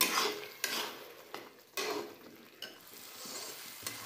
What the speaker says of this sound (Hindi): हम लोग का मसाला भून रहा है।